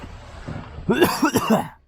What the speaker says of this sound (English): Still have a little COVID cough left over.